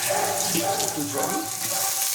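Water poured into a cooking pot, a steady splashing and running sound, near and fairly loud, lasting a couple of seconds with faint sizzling beneath.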